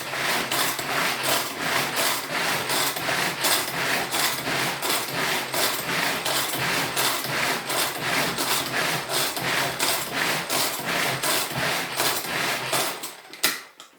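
Steady, rough whirring and rubbing of a mixer working lobster terrine ingredients together with pastry dough, running loud and continuous for about thirteen seconds before cutting off abruptly near the end.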